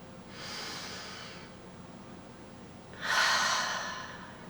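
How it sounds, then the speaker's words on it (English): Two slow breaths close to the mic: a soft inhale through the nose, a pause, then a longer, louder airy exhale that trails off, calm and unhurried with no talking. "I'm going to breathe in from my nose and exhale all the way."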